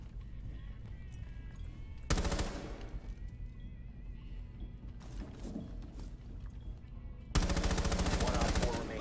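Bursts of gunfire in the Rainbow Six Siege video game, two loud broadband volleys rapid like automatic fire, separated by quieter in-game ambience and faint mechanical sounds.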